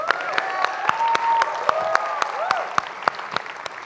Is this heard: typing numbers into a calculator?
no